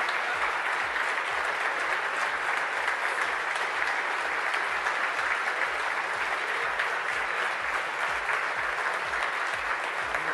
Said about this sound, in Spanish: todos parados, aplaudiendo de pie